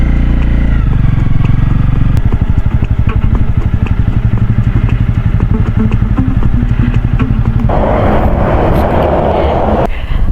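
Motorcycle being maneuvered into a parking spot: a loud, close, pulsing engine runs throughout, and a burst of broader noise comes near the end.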